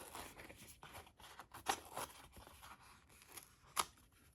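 Scissors snipping through sticky-back craft foam to cut out the inner ears of a yarn lion craft, a series of short, crisp cuts and crunchy tearing sounds, quiet and close, with no talk.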